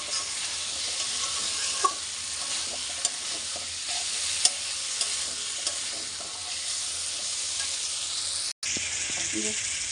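Spice paste for a dhoka curry sautés in a pan with a loud, steady sizzle and occasional scraping stir strokes, broken by a brief dropout near the end.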